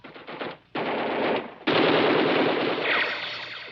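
Machine gun fire in a 1964 war film: loud, sustained automatic bursts with a brief break, then a heavier continuous stream of rapid shots.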